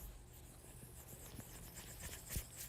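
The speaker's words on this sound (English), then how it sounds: "let me erase this" A board eraser rubs steadily across a classroom board during a calculus lecture, a quiet continuous scrubbing with small bumps and one sharper knock near the end, with no talk.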